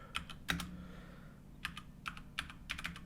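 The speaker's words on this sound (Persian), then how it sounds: "همون زمانی که من دارم تایپ میکنم" Keystrokes on a computer keyboard, typed in short irregular bursts of soft clicks over a faint room hum, with no voices.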